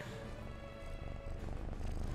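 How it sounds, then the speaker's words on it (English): A pet cat's low, continuous purring sits close to the microphone, soft and steady throughout with no distinct meow standing out. "Wait, did you hear the meow?"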